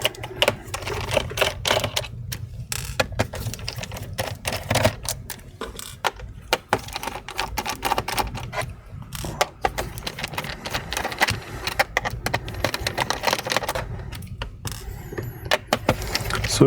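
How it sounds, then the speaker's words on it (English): A Phillips screwdriver unscrewing small screws from a computer, heard close up as dense, rapid clicking and rattling that runs continuously with brief gaps. "Using a Phillips screwdriver."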